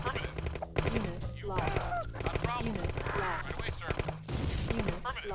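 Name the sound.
gunfire attacking barracks in video game Command & Conquer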